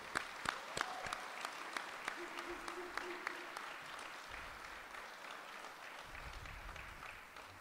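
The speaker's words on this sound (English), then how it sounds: "please, round of applause for them being here this morning" Applause from the audience at a union apprenticeship graduation ceremony in the morning, a steady crowd clapping with a few sharp louder claps near the front and a faint voice briefly underneath.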